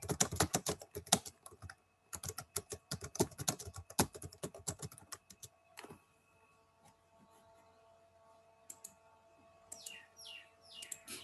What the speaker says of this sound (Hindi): एक नया डॉक्यूमेंट बनाते हैं और इसके अंदर कुछ लिखते हैं।